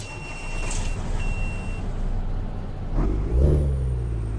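A Kenworth K100 flat-nose truck with a Cat engine of 550 horsepower and an 18-speed gearbox runs in American Truck Simulator, giving a steady low rumble with a swelling surge and a hiss near the end.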